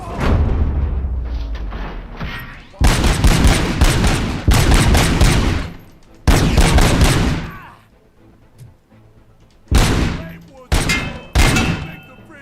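Gunfire in the Robocop Rogue City video game, with loud bursts of rapid shots and heavy booms in several clusters, separated by brief quieter gaps.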